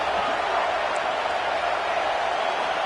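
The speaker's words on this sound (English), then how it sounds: "And here comes the noise. This crowd is trying to inspire this defense to make a big red zone stop." Football stadium crowd roars to fire up the defense before a red zone stop, a broad, steady wall of cheering noise that holds loud and even throughout.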